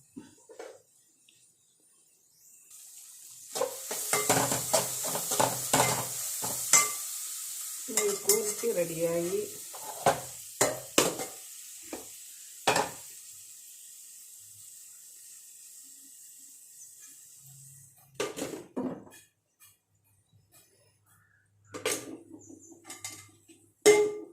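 Mezhukkupuratti, a Kerala vegetable stir-fry, cooking in a pan, with bursts of stirring and scraping over a steady sizzle that fades near the end, then a few sharp clinks of utensils.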